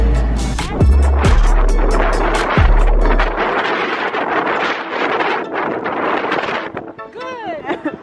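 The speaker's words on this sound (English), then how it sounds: "Your hair is blowing in the wind." Outdoor wind buffets the microphone in heavy, rumbling gusts that swell and fade, loud and close, with indistinct voices mixed in underneath.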